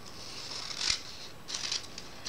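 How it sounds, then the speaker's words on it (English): Two brief, crisp snips of scissors cutting through paper coupons, a short pause between them, close by and fairly quiet. "Very sharp scissors."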